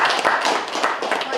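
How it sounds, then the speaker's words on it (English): Graduating class and guests at a real estate school graduation ceremony in Guyana applaud together, a dense, steady wash of clapping that holds at an even level for the whole moment. "please give yourselves"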